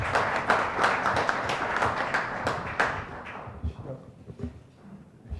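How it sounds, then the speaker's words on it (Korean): Audience applause at a Korean policy seminar welcoming a panel speaker, with brisk, fairly loud clapping near the start that thins into scattered claps and room shuffling before fading out. "큰 박수로 맞으시면 고맙겠습니다"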